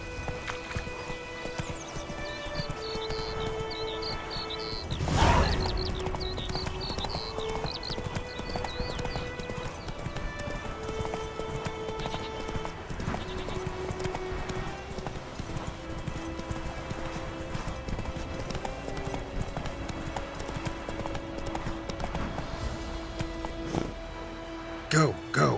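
Horse hooves clip-clop steadily at a run through a Witcher 3 game scene, with a brief snort or neigh near the start, over a bed of music and ambient game sound, while voices talk.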